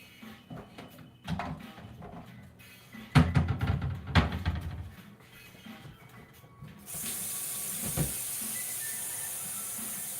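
Tap water runs into a pot in a home kitchen during soup preparation, a steady hissing stream starting partway through after some clattering of cookware and handling noises.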